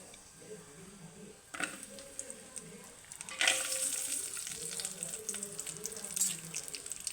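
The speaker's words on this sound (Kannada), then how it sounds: "ಇವನ್ನ ಈಗ ತುಪ್ಪದಲ್ಲಿ ಹಾಕೋಣ. ಅವನ್ನ ಸ್ವಲ್ಪ ಫ್ರೈ ಮಾಡ್ಕೋಬೇಕು ತುಪ್ಪದಲ್ಲಿ." Almonds, cashews and raisins frying in hot ghee, a steady soft sizzle with occasional louder crackles and clinks of stirring close by, growing busier midway through.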